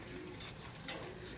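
Pigeons kept for sale give a faint, brief coo, soft and low against background hiss.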